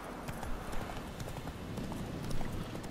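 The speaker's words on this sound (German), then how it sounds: "Galoppieren wir mal ein bisschen schneller." Horse hooves galloping in The Witcher 3 video game, a fast steady run of clip-clop beats on a dirt path continuing throughout at moderate loudness, with faint ambient game background.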